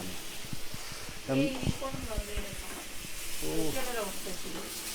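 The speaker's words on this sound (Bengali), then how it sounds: "সুন্দর তো পটল ভাজি পুড়ছে সুন্দর করে" Sliced pointed gourd (potol) sizzles and spits as it fries in hot oil, a steady close crackle running the whole time while voices talk over it.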